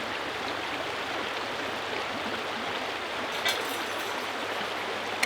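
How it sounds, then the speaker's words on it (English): Expanded metal from a gold sluice box is dunked and rinsed in stream water, a steady broadband wash of flowing water with a brief splash near the end, no talking. "Just dunk it each end, rinse off that material good."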